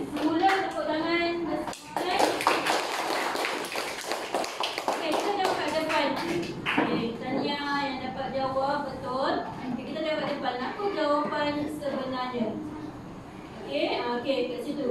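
Schoolchildren in a classroom clap again for a classmate, with a burst of scattered, rapid handclaps early on that gives way to ongoing chatter and a teacher's voice.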